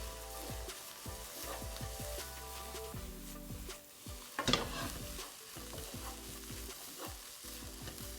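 Chinese takeaway-style fried rice is stirred and tossed in a hot pan, giving a steady sizzle broken by repeated scraping and clattering strokes, with one louder toss near the middle.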